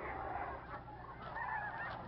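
Geese honking in a wildlife refuge in New Mexico, several overlapping calls from a flock at a moderate distance, steady and continuous with no talk.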